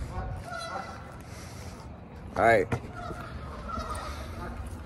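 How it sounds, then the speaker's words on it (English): Geese honk in one loud, brief burst near the middle, a short second call following, over steady outdoor background noise; a voice speaks briefly. "That's a goofy ass bird."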